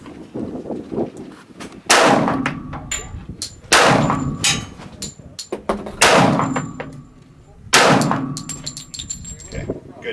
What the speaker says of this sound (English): Let's get a couple rounds down range. Just do like 3, 4 rounds on that target and see how we do.